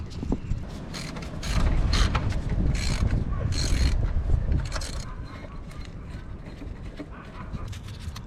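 Two 9/16 bolts being removed from the chaincase cover plate of a Bobcat G-series skid steer, a close sequence of ratcheting clicks, creaks and metallic turning noises that is loudest in the middle, with no one talking.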